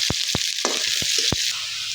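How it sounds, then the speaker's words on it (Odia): Onion hits hot oil already crackling with tempering spices, giving a steady hiss of frying along with a few sharp pops and taps close by. "ଫୁଟଣଟା ଫୁଟିଗଲେ ପିଆଜ ପକାଇବେ।"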